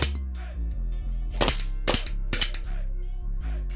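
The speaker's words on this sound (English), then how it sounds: "Just dry fire it." Elite Force Glock 18C airsoft pistol dry fired indoors, several sharp, loud mechanical clacks of the slide snapping in an uneven rhythm over a steady low background hum.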